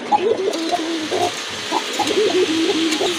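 A pair of pigeons coos repeatedly, soft rolling calls coming in quick overlapping phrases over a low background hum, close and clear, with no voices.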